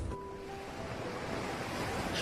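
A long range of ocean breakers on the shore, a steady, close roar of surf washing in with wind noise, loud and continuous, no voices.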